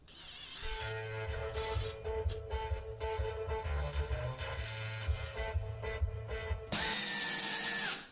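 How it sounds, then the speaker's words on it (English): A power drill pre-drilling wood whirs in bursts with a rising and falling motor pitch and some grinding, ending in a loud high-speed spin. "always pre-drill before adding glue"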